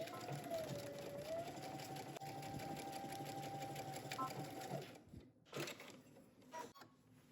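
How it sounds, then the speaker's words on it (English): A sewing machine stitches the shoulder seams of a jumpsuit in a fast, steady whir for about five seconds, then stops, leaving a few soft clicks and handling sounds. "head to your sewing machine and you're gonna stitch your shoulders"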